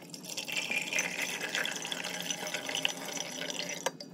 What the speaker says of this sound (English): I'm going to attempt to do a double pour for you guys.